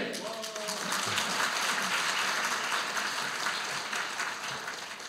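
Conference crowd at the opening ceremony of the 2023 ITS Society autumn conference, applauding. The clapping is broad and sustained, a dense hiss of many hands that holds steady for several seconds before easing slightly.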